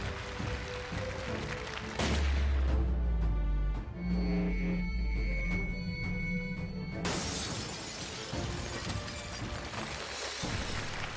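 Sniper rifle shots strike red targets during a televised live challenge, with loud sharp bursts and shattering crashes near the start and again midway, separated by a stretch of ringing, clattering resonance.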